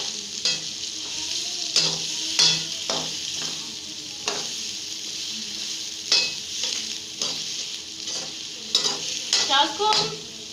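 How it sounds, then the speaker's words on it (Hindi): Sliced onion and slit green chillies sizzle steadily in hot oil in a wok while a spatula scrapes and stirs, giving repeated clinking metal knocks over a constant frying hiss. "इसमें जाएगा ये प्याज ग्रेवी बनाने के लिए और 3 अदद सब्ज़ मिर्च जिसे दरमियान से कट लगा लिए और इसको हम फ्राई कर लेते हैं।"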